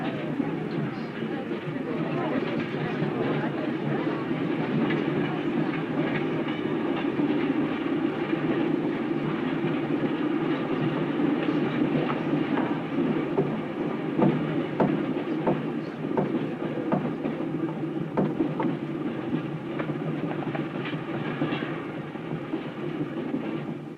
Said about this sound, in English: Argoman's on the Cali-Paris train